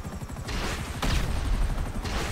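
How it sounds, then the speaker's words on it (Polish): Dense, rapid bursts of GTA Online gunfire with heavy low rumble, a sharp loud shot about halfway through, continuous battle noise throughout. "Jeszcze kilka strzałów."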